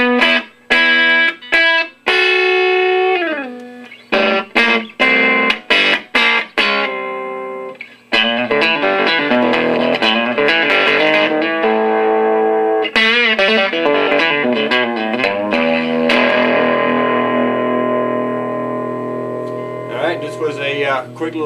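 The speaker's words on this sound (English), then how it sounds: "Quick little demo of my Carr Hammerhead amp." An electric guitar plays through a Carr Hammerhead tube amp: choppy strummed chords and stops at first, then sustained distorted riffs ringing out loudly.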